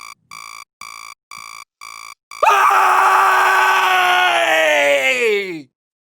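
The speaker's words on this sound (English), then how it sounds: "when I wake up in the morning, I have a habit of screaming before I do anything else." A person screams in the morning: a long, loud, sustained cry lasts about three seconds before cutting off, right after a series of evenly spaced electronic beeps like an alarm clock.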